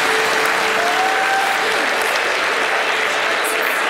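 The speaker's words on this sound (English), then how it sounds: "Give a big round of applause." An audience at an awards ceremony applauds loudly and steadily, a dense wash of clapping that holds at an even level throughout.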